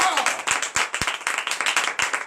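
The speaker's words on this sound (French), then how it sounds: "Applaudis encore et encore." Congregation clapping at a morning prayer service in Benin, a steady run of sharp claps filling the room, fairly close and loud, with a few voices under it.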